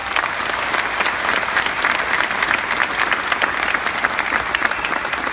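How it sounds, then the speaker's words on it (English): A university orientation audience applauds for a speaker: dense, steady clapping from a large crowd that holds at an even, loud level throughout. "So I would appreciate if you would give him a round of applause."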